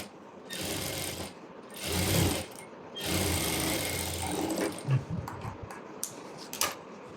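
A sewing machine runs in short bursts while stitching the edge of a saree border, with brief pauses between runs and a few quieter clicks near the end.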